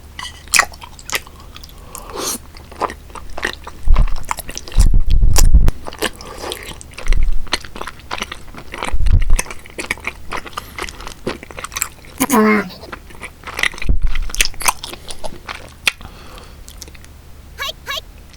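Someone eats chewy bunmoja in spicy rose tteokbokki. Close, wet chewing and squishy bites come in irregular bursts, with a few sharper crunchy moments, while a person talks intermittently between mouthfuls.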